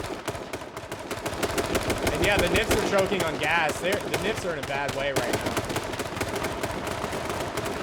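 Rapid automatic gunfire and scattered shots in an H1Z1 firefight between teams, dense bursts crackling throughout while a commentator talks over the action.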